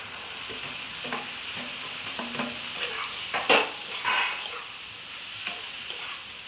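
Fish heads fry in a cooked-down spice paste while being stirred, with a close, crackling sizzle and irregular scraping strokes. A louder clatter comes near the middle, and no voices are heard.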